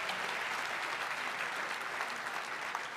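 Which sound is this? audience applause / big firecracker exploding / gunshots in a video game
audience applause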